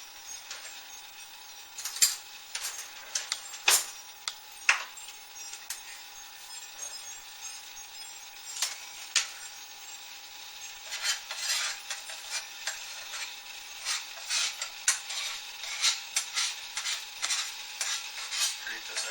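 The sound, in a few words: scraping excess dandelion root coffee grounds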